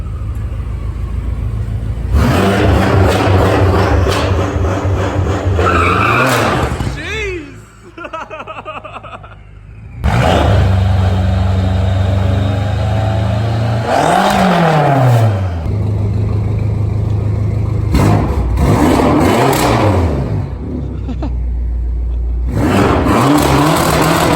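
A tuned BMW 335i revs repeatedly in bursts, with loud rising and falling engine roars separated by short pauses, and exhaust crackles between the revs; people chuckle and talk briefly in the background.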